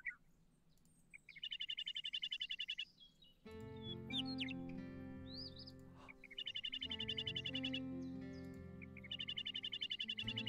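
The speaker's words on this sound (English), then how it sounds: "Western meadowlark. This pretty bird also has a beautiful flute-like song." Western meadowlark song from a bird video game, clear flute-like warbled phrases repeating in bursts, alternating with stretches of layered game music.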